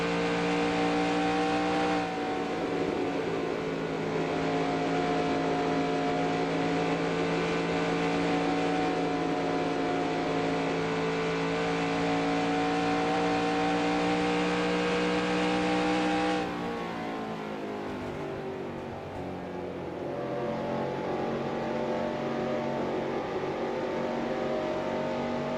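Stock cars racing at Darlington in the NASCAR Racing 2003 video game, a steady loud engine drone with layered harmonic tones, shifting pitch as the pack changes, with no talk.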